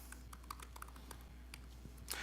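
Someone types on a computer keyboard, with scattered clicking keystrokes in an irregular rhythm over a low steady hum.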